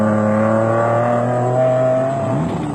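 Off-road race trucks, including a GBS Racing Nissan Hardbody, roar past loud and close. The engines hold a strong, steady tone that sweeps slightly as they go by, with no voices over them.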